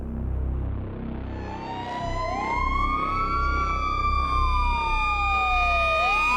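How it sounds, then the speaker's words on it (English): An ambulance siren wails with a rising and falling pitch that bends as it passes close by, over a low traffic rumble. "a siren distorts as an ambulance races past us"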